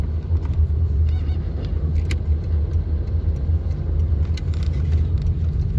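A car drives along a village road in Katyayevka, Kurmangazy district, Atyrau region, its engine rumble and road noise loud and steady throughout, with a few faint rattles and clicks inside the cabin.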